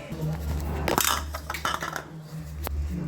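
Ingredients for sesame-jaggery laddoos are pounded in a kitchen, with a few dull thuds and scraping clinks of metal against metal over a steady low background hum.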